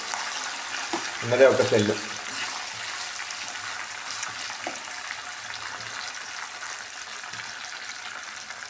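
Curry leaves hit hot oil in a home kitchen while pulihora gravy is made, giving a loud crackling burst at first that settles into a steady sizzle of frying, with someone speaking briefly over it.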